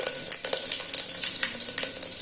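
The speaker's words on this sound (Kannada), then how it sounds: "ಸಾಸಿವೆ ಚೆನ್ನಾಗಿ ಚಟಪಟ ಅಂತ ಸಿಡಿತಾ ಇದೆ" Mustard seeds crackle and pop steadily in hot oil for a sambar tempering, a dense sizzling with sharp little bursts throughout, close up and without talk.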